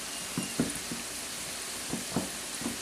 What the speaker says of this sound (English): basically be scooping and dropping these into the hot oil